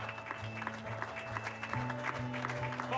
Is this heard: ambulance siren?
no